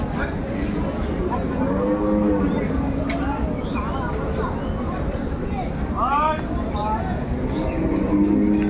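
A Sahiwal cow with her calf at a rural cattle market, mooing in several drawn-out calls over steady crowd babble and people talking nearby.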